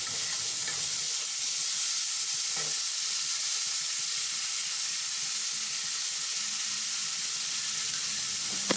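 Food frying in a pan while salt and turmeric are stirred in, giving a steady, close sizzle and hiss with faint scraping of the spoon running underneath throughout.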